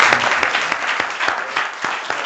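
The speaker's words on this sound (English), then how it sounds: "So let's actually give her a round of applause again." A conference audience gives a round of applause, dense steady clapping filling the room throughout, fairly loud and close, with no talking over it.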